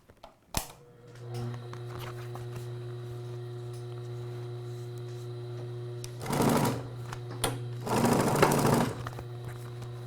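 Sewing machine stitching car seat upholstery, two short whirring bursts of rapid stitching over a steady background hum, close and moderately loud, no voices.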